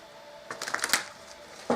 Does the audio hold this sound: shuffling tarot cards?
yes